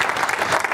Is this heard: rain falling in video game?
no